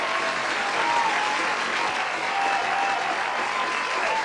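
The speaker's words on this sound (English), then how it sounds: "let me go ahead and give you another round of applause" A steady round of audience applause, dense uniform clapping that holds at an even level from start to finish without any voices.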